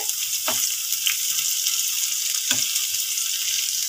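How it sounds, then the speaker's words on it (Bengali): Carrot french fries deep-frying in oil over a medium to low flame, a dense, steady close sizzle with a few faint stirring knocks, no talk. "দেখো আমার কিন্তু এটা ভালোভাবে ভাজা হয়ে যাচ্ছে"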